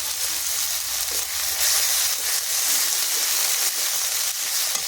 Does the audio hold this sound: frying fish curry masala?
yes